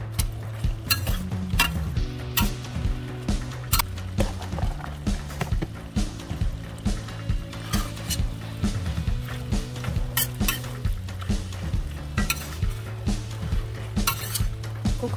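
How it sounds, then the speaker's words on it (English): Metal utensil scraping and clinking against a wok while pepper steak fries, giving a steady repetitive rhythm of sharp clacks over a low sizzle, close and moderately loud. "This is a pepper steak, so we're putting all this pepper in."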